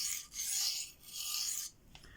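Blade being sharpened on Venev diamond stones, two close, loud rasping strokes of steel scraping across the abrasive surface, with a short pause between them and no talking.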